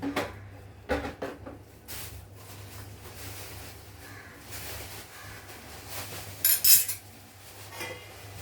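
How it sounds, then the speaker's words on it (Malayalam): A spoon gently stirring Kerala-style fish curry in a pot, with soft scrapes and occasional metallic clinks against the vessel, a couple of louder knocks near the start and a sharper clatter toward the end. "ഒന്ന് പതുക്കെ ഇളക്കി നോക്കണം, അല്ലെങ്കിൽ അത് അടിക്ക് പിടിക്കാതിരിക്കാൻ വേണ്ടിയാണ്."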